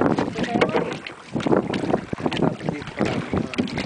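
A small paddled boat on the sea, with water sloshing and splashing against the hull and steady wind buffeting the microphone throughout.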